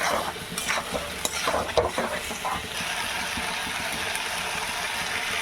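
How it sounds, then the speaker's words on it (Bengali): Chickpeas cooked with salt, ground pepper and spices for ghugni are stirred and fried in a pan, giving a steady close sizzle with scraping spatula strokes that are denser in the first few seconds. "সব মশলা দিয়ে আমি ভালো করে কষিয়ে নিচ্ছি।"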